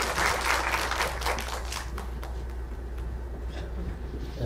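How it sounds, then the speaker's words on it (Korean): An audience at a smart-work forum claps to welcome a presenter, the applause strongest at first and then thinning to a few scattered claps as it dies away. "큰 박수로 맞이해 주시기 바랍니다."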